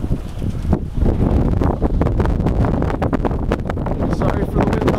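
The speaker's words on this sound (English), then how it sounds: "Sorry for the wind" Strong wind buffeting a microphone outdoors during a snowstorm on a walk to an alpaca farm barn, a loud continuous roaring rumble with gusty surges throughout.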